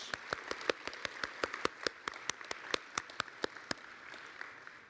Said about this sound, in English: One round of applause for Christy.